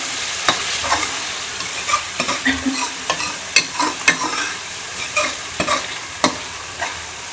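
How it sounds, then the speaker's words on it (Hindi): Boiled eggs are stir-fried in masala for a dhaba-style egg curry: a spatula knocks and scrapes the pan in irregular, close bursts over a continuous soft sizzle. "हम 4 से 5 मिनट अंडों को मसाले में अच्छी तरह से भून लेंगे"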